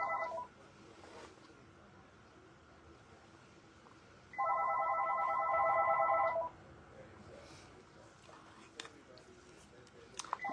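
A phone rings with a bright electronic tone in one sustained burst of about two seconds partway through, over a quiet room during live resin wreath crafting, with faint scattered clicks afterward.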